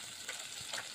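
Rui fish fries lightly in hot oil with a soft, steady sizzle. It is faint and close, with a few small pops, and no one speaks.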